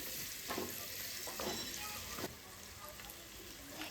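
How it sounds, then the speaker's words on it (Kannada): Two medium-sized sliced onions frying in a pan, a soft continuous sizzle with a few brief stirring scrapes early on, fairly quiet and heard alone. "ಅದನ್ನು ಚೆನ್ನಾಗಿ ಸ್ಲೈಸ್ ಮಾಡಿ ಫ್ರೈ ಮಾಡ್ಕೋತಾ ಇದ್ದೀನಿ"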